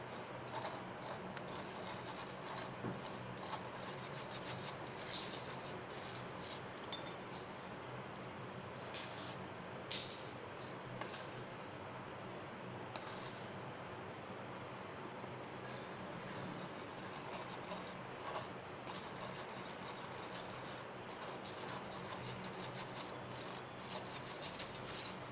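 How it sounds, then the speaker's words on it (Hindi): Maida flour being sifted through a sieve for a chocolate cake, a soft continuous rubbing and rasping of the mesh with faint tapping, quiet and close, no talk. "अब इसमें हमें एक छन्नी लेंगे, इसमें डालेंगे मैदा।"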